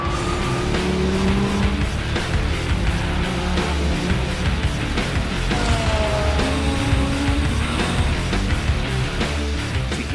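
A sports car drives hard around a racetrack, its engine roaring loudly and continuously while the pitch rises and falls through gear changes, with occasional tire noise.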